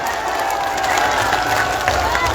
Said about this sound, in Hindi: जरा हाथ उठा के ताली बजा दीजिए